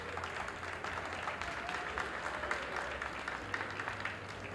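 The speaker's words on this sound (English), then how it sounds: "So he gets a nice round of applause" A baseball crowd at a Michigan State game applauds a player who stays in after a shoulder scare, the clapping faint and distant, a soft steady patter over low ambient rumble.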